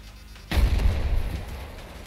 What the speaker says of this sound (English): So we're gonna go ahead and place our C4 and get our next explosion.